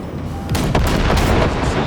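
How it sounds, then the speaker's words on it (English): Gunfire from target practice at a scrapyard in Cyberpunk 2077, a loud, dense run of shots and booms that carries through the whole stretch with no speech over it. "Just keep shooting at those."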